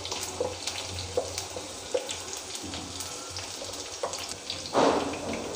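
Turmeric powder being stirred into liquid to dissolve the lumps, heard as soft wet scraping and swishing strokes in a pan, with a faint kitchen hum underneath and no talking.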